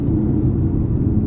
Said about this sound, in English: every single time you throttle the car